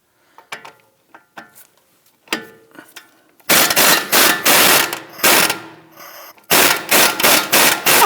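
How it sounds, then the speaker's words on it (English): Wrench and socket work loosening the knuckle-to-strut bolts on a 2001-2009 Volvo S60 front suspension, using an 18 mm wrench and a 21 mm socket: a few sparse metallic clicks, then repeated loud, harsh ratcheting bursts in quick succession. "we're now going to go ahead and loosen and remove our knuckle to strut bolts"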